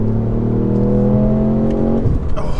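Stage 1 Ford Fiesta ST hot hatch with a limited-slip differential, its engine droning loudly and steadily under load on a B-road, then the note shifts near the end as the throttle is lifted.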